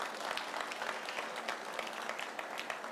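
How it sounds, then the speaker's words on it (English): A sales team claps at a DLF Privana real estate launch event, a dense, continuous patter of many hands at steady volume throughout. "It's only the sales teams that is clapping."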